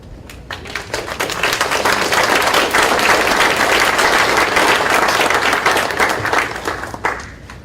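Conference audience applause swells to a dense, loud, sustained roar of many hands clapping, holding steady for several seconds before tapering off, with no talk over it.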